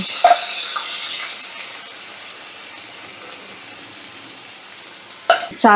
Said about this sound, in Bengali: এই যে আমি তেলের মধ্যে সব চালটা দিয়ে দিলাম